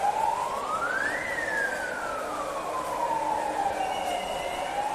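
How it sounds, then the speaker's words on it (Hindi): Emergency siren sounded at the Kumbh Mela pilgrim rest area, a single loud wailing sweep rising then slowly falling and starting to climb again, close by over steady crowd background without clear talk. "उनके कान के नीचे सायरन बजा बजा करके"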